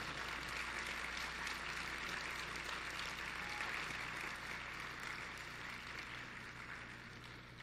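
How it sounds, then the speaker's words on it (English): Audience applause for conference unit staff at the closing session of a conference, a steady dense wash of clapping held for several seconds and tapering slightly toward the end, with no talking. "give them a big clap for working so hard"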